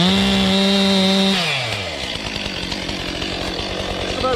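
A chainsaw engine runs at a high steady whine, then bogs down into a lower, rattling growl as the chain bites into a tree and keeps cutting.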